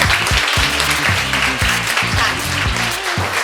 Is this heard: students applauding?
yes